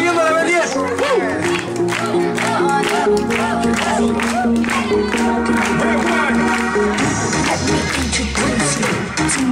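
Applause at a child's third birthday party with a Ben 10 theme: a crowd claps and cheers steadily while music plays and an animator's voice talks loudly over it.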